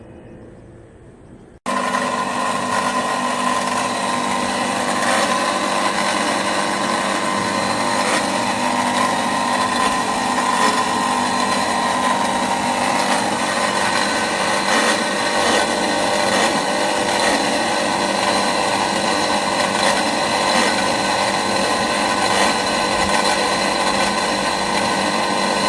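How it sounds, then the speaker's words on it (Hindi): An electric kitchen grinder blends leaves for a homemade pesticide, starting abruptly and running as a loud, steady, high-pitched motor whirr for over twenty seconds with no pause. "कैसे पीसेंगे? ग्राइंडर से पीसेंगे।"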